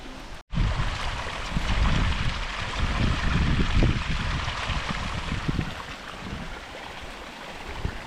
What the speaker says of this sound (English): Starting raining.